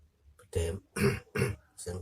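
Four short, rough throat-clearing bursts, close and fairly loud, evenly spaced with brief pauses between them.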